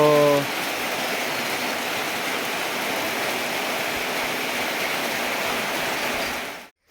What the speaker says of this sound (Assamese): বহুত বৰষুণ দি আছে আৰু বৰষুণটো বহুত জোৰকৈ পৰিছে